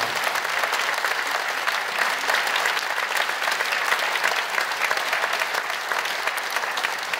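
A church congregation applauds loudly to welcome six newly installed elders at an installation service, a steady, full wash of many hands clapping that continues evenly for several seconds with no voices.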